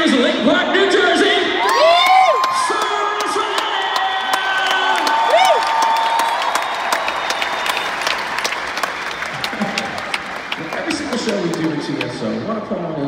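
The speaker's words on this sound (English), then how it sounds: "They're applauding." Crowd in a Newark, New Jersey arena applauding and cheering for a football team, with whoops and shouts rising over a steady roar of clapping, while an amplified voice talks over the noise.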